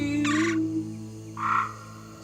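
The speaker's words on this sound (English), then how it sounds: "where you can hear a bird or a frog in the background." Behind a song recorded on an iPhone, a bird calls twice with short harsh bursts over the sustained musical notes, faint and distant.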